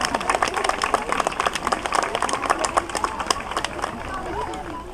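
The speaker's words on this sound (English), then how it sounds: "Big round of applause for all 3 of them." A zoo bird-show audience breaks into dense, continuous applause for the three show staff, the clapping fairly close and lively, with voices and crowd chatter mixed in.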